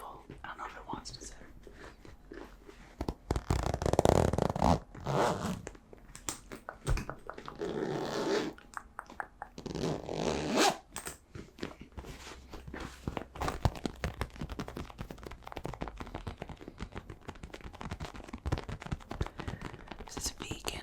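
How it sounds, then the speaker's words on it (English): A zipper drags slowly around an overstuffed craft bag with vegan leather, rasping in short bursts over several seconds, close and quiet amid soft whispered talk and handling rustles. "Then I'll zip it up"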